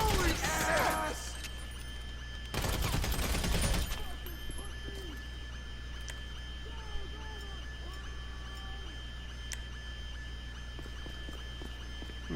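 Two loud bursts of combat MG machine gun fire in GTA V Online, one at the start and a longer one a few seconds later, over a steady game background with scattered voices.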